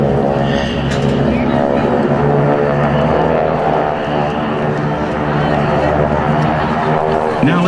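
Blue Angels jets in Delta formation at a 2009 homecoming airshow, a steady loud engine roar sustained throughout, with a public-address announcer talking over it.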